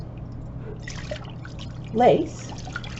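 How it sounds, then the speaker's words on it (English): Warm avocado dye pouring over lace, a brief liquid splash and trickle near two seconds, close by, under steady room hum with a voice talking throughout. "I'm pouring the warm avocado dye in"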